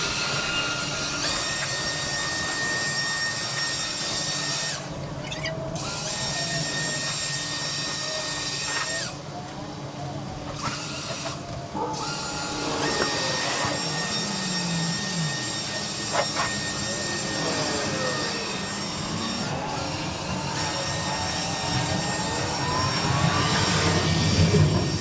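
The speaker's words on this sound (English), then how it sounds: "So let's blow off the front porch." Blower clearing dust off a front porch, a loud continuous rushing roar that dips briefly a few times and stays steady throughout, close by with no talking.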